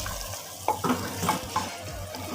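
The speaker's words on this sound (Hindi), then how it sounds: "थोड़ी देर के लिए दोनों चीज़ों को भून लेंगे।" Meat and peas fry in a pan for matar gosht, with a soft sizzle under a few scraping stirs of a spoon.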